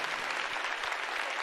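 An audience at a presidential debate claps in a dense, steady burst of applause, fairly distant and filling the whole moment without pause.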